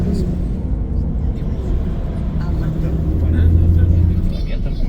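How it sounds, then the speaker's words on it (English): A bus that serves both city routes and long-distance runs drives along, its engine a steady low rumble from the interior, swelling slightly toward the end as it moves. "This bus does operate also as a normal bus, not just as a long distance bus."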